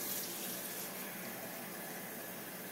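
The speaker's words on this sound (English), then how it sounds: "I'm actually going to add 2 more cups of water." Water pours steadily into a pot of seasoned oxtails with vegetables, a continuous close, loud rushing splash that holds evenly throughout with no talking.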